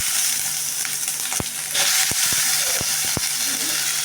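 Mustard seeds and onion frying in hot oil, a loud continuous crackling sizzle close up, punctuated by several sharp pops from the spluttering seeds.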